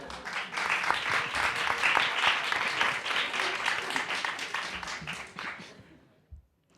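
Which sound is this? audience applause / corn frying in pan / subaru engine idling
audience applause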